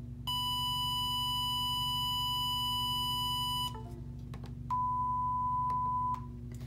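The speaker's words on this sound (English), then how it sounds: "This is a square wave." A steady, buzzy square-wave tone from a speaker driven by a simple frequency generator holds for several seconds, cuts out, then returns briefly after a short pause, over a low hum.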